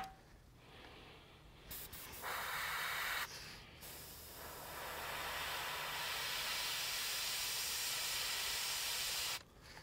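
A compressor-driven airbrush sprays thinned paint onto a bear sculpture for a diorama, a steady close hiss that starts and stops in bursts and then runs continuously for several seconds.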